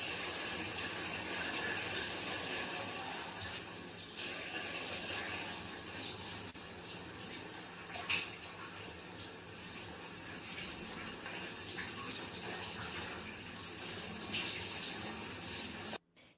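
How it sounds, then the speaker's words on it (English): Hot water running steadily from a shower in a mountain cabin, a loud continuous hiss and splash that holds level for about sixteen seconds before cutting off. "He reached in and let the shower run on hot for a moment."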